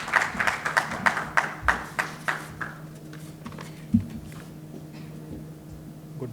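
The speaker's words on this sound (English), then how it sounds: "Please, with a huge round of applause," Scattered audience applause at a stroke conference greeting a speaker, a thin round of clapping that peaks early and fades within a few seconds, leaving faint room hum.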